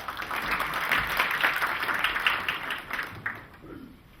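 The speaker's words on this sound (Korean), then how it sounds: "박수로 모실게요" Audience at a startup venture forum applauding as a presenter is introduced, a steady round of clapping from a mid-sized crowd that tapers off near the end.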